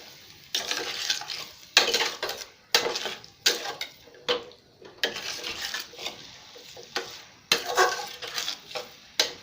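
A spoon clanks and scrapes against a pot as mutton curry is stirred in an Assamese home kitchen, the metallic strokes coming in irregular bursts over a faint sizzle, with no voices.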